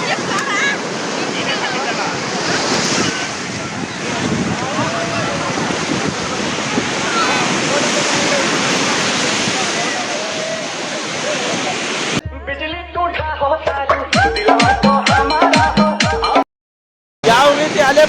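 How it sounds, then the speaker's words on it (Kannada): Sea waves breaking on Marina Beach, Chennai, a steady loud surf roar mixed with wind buffeting the microphone, then a shorter stretch where voices talk over choppier wave wash before it cuts off briefly. "ಯಾವ ರೀತಿ ಅಲೆ ಬರ್ತಾ ಇದೆ ಈಗ"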